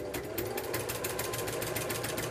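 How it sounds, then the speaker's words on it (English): A sewing machine stitching quilt binding runs in a steady, rapid mechanical rhythm, close and continuous, with the hum of the motor under the needle clatter. "So a few stitches and reverse."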